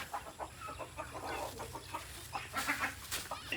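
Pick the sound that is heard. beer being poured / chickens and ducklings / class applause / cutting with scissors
chickens and ducklings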